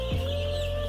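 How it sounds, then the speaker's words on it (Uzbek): White Leghorn chicks, an egg-laying breed, give a short high cheep over a steady hum and background chatter of other birds. "Oq legorin jo'jalari."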